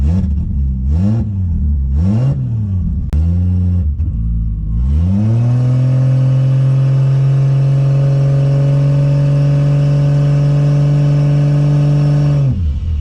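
A turbocharged Lexus IS300 engine revs up and down in a few short blips, then climbs and holds a loud, steady drone as the car drives on before the note drops off at the end.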